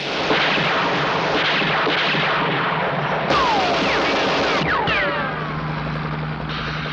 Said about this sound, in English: Captain Scarlet knew he was indestructible, and he opened fire on Goddard